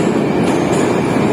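A Moscow metro train running, a loud, close, continuous rumble of wheels and carriage noise with no voices.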